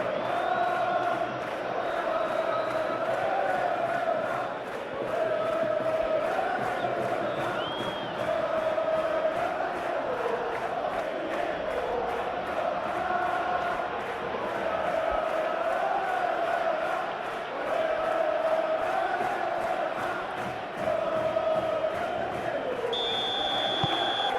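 A football stadium crowd at a Copa del Rey semi-final between Atletico Madrid and Barcelona keeps up a steady roar with rhythmic chanting and whistles, continuous and fairly loud throughout.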